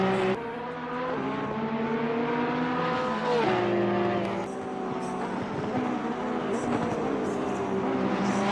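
GT3 race cars in the Assetto Corsa Competizione sim racing at Bathurst, engines droning loud and steady with layered revving tones through the whole stretch, a Ferrari among the pack, with commentary voices underneath.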